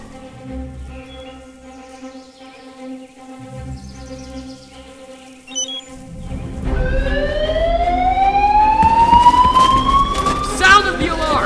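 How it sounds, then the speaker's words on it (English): A base alarm siren in Halo: Reach begins after quieter tones and music, rising in loud sweeping wails that build and continue to the end. "Sound of the alarm!"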